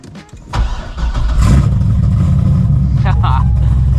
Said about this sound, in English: Let's just go and start this thing, and I'll let the car sing for itself